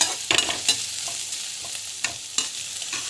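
Chana dal, mustard seeds and cumin frying in hot oil and being stirred, a steady crackling sizzle broken by repeated scraping taps of the spoon, close and clear with no talking.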